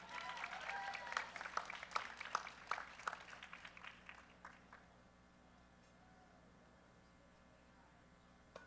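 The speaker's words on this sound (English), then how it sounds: "And the gold medal, Jessica Espinal. Give her a round of applause" Audience applause for a gold medalist at a college powerlifting nationals, a fairly small crowd clapping briskly at moderate distance for about four seconds before it tapers off into a quiet room with a low electrical hum.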